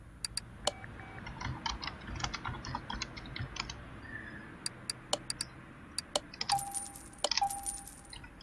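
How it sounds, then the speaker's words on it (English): A computer keyboard is typed on slowly, with scattered sharp clicks and key rattles spaced irregularly over a quiet hum, plus a few brighter clinks near the end. "trying to type slowly so you don't end up hearing the keyboard rattle away"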